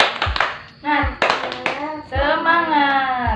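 A primary-school class does a rhythmic spirit clap, sharp group claps in a quick patterned beat mixed with children's voices chanting along.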